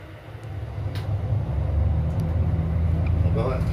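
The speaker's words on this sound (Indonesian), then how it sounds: "Oke, RPM engine sudah mulai naik." A large mining haul truck's diesel engine starts and builds revs, a deep rumble that grows louder and steadier.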